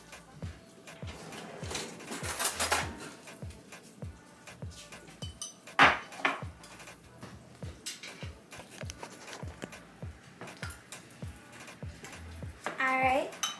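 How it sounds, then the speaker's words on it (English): Two large eggs beaten in a bowl for a Jamaican spice bun, heard as a steady run of quick, evenly spaced clinks and taps of utensil against the dish, with scattered louder knocks and people talking at moments. "You need to beat those 2 eggs for me."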